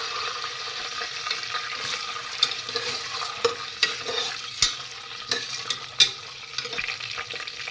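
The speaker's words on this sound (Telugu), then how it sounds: "వేడెక్కినాక ఫ్రైడ్ ఆనియన్స్ సగం వేసుకున్నాం." Fried onions stirred in hot oil and ghee in a pan for mutton haleem give a low sizzle with a spoon scraping and clinking at intervals, close and moderately loud.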